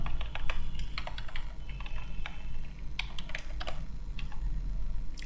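Fingers tap quickly on a computer keyboard while entering a date formula into an Excel spreadsheet: a close, irregular run of crisp key clicks with short pauses and no voices.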